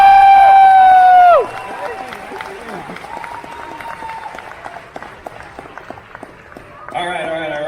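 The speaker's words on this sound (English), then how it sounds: "Huge round of applause." Audience applause after a charity auction lot sells, steady clapping from a crowd lasting several seconds, following a loud amplified voice at the start and with talk resuming near the end.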